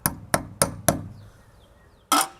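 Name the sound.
light hammer tap on screw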